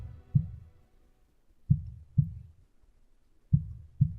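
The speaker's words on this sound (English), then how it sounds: "He's hearing her heartbeat." Deep, muffled heartbeat thumps, a lone beat followed by paired beats in a slow steady rhythm, close and low, with no talking.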